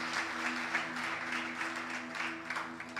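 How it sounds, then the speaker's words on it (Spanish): Church congregation applauding during a Spanish-language sermon, a dense continuous clapping that stays steady for three seconds with a faint tonal hum underneath and no voices over it. "Dele un fuerte aplauso al Señor, que reconoce su obra."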